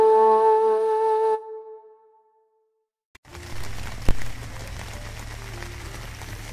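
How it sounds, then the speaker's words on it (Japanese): Rain falls steadily on a small canvas pup tent covered with a blue tarp, heard as a continuous soft patter with a few louder drops, following a stretch of tonal sound and then near silence. "雨が3時間ぐらい降ってるけど、まだ濡れてないですね。"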